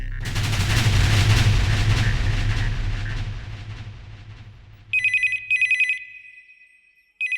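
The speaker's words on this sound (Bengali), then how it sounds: "সিগন্যাল, ফোনটা ধর" An old-style telephone rings in a Bengali film scene, giving two sharp electronic trills in quick succession followed by a held tone. It comes after a loud, fading burst that sounds like gunfire.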